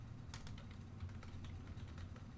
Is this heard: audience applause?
no